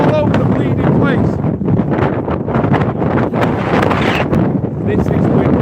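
Strong, freezing wind on the summit of Snowdon buffets the microphone in loud, gusty rumbles, with a voice partly audible beneath the blustering roar.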